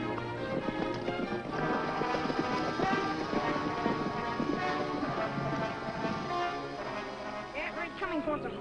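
Hoofbeats of the horse Fury in a 1950s TV Western, a steady clip-clop running throughout beneath a busy layer of music and voices.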